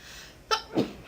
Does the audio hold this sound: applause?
no